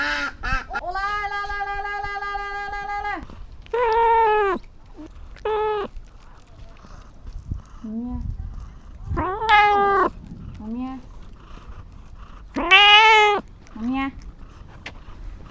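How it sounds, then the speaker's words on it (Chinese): A cat meows repeatedly at close range, long wavering cries and shorter calls spaced through the recording, with quiet human speech between them. "猫咪。"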